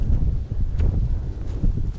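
Wind gusting across a high mountain pass on the Himri pass route between Kullu and Lug valley, a steady low roar with buffeting swells and no voices.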